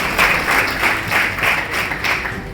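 An audience at a large indoor event gives steady, dense applause that swells and dips slightly across a few seconds, filling the room at moderate loudness with no voice on top.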